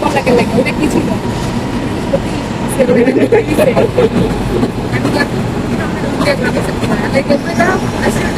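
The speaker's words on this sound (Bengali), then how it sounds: "এটা এদেশের লোকাল ট্রেন" A local commuter train in Malaysia running along its track, with a loud steady rumble, clattering wheels and cabin noise heard from inside, while people talk over it.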